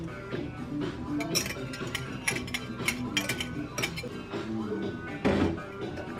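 At a campsite in the Great Smoky Mountains, a fork whisks in a bowl in place of a whisk. Quick irregular metallic clinks and scrapes rattle along at moderate volume, with faint activity around them.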